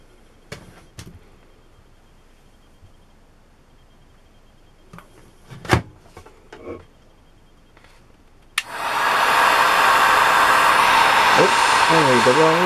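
A hot air tool heats a DIY Wonder Bracelet, with a steady, loud blowing roar that starts abruptly after a few quiet clicks and handling sounds and then holds for several seconds.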